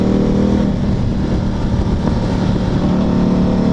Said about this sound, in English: You hear the crackle of the exhaust when I let off.